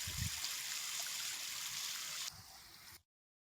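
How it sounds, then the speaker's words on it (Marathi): Water spraying from a rain pipe irrigation line in a farm field, a steady, soft hissing rush at a distance that drops in level near the end and then stops. "आता बघा रेन पाईपचं पाणी वगैरे व्यवस्थित चालू आहे."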